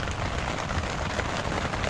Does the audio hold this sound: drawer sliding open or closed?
no